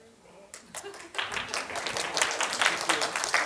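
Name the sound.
audience clapping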